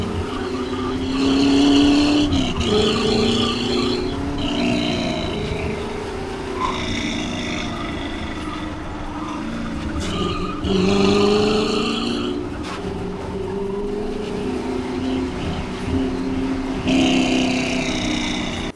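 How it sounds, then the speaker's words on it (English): A race car pushed hard through tight mountain corners, engine droning loudly and steadily with repeated surges and whining tire squeals rising over it across the whole stretch. "It's the sound and the noises of the tires squealing and stuff like that."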